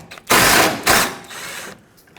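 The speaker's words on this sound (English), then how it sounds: "Then use a 10mm socket to remove the mounting bolt." Socket wrench ratcheting out a 10mm horn mounting bolt on a 2009-2014 Ford F-150, two quick loud bursts of rapid clicking close up, followed by a softer trailing rattle.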